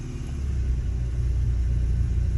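A 2010 Ford Escape 2.5L engine idles steadily after being shifted into gear, producing a close, continuous low rumble with no voices over it.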